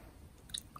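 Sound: chewing steamed sweet potato

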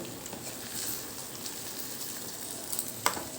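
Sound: masala and brinjal frying slowly on low flame

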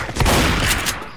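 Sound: gunfire in video game Left 4 Dead 2

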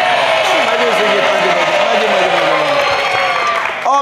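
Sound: studio audience applause for both teams

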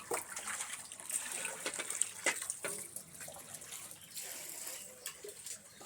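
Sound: water pouring down

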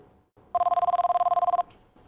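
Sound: telephone ringing in the video game The X Files

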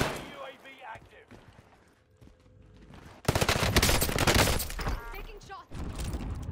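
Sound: gunfire in the video game Warzone

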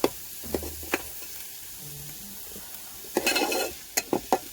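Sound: green chilies and onions sautéing in pan

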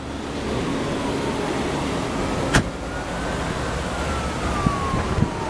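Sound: power windows operating on a 2001 Dodge Stratus sedan

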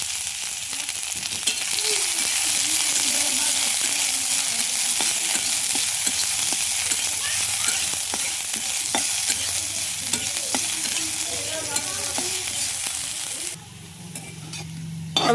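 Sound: onions frying in oil

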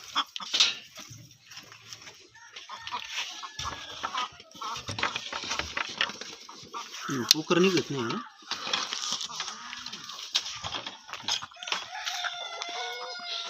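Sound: Gavran desi chickens clucking

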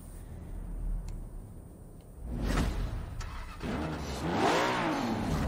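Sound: car engine revving in Forza Horizon 4 video game

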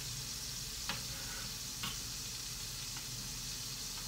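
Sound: onions and peppers cooking in a pan

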